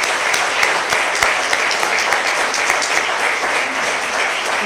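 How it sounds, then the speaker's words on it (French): Applause for a diploma recipient at an academic awards session, a lively crowd clapping loudly and continuously with distinct individual claps popping out of the steady roar. "l'applaudir et lui remettre son diplôme."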